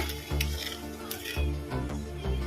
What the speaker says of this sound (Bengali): আমি মাছ ভেজে নেওয়া তেলের মধ্যে দেব কালো জিরা ফোড়ন কয়েক সেকেন্ড ভালো করে ভেজে নেব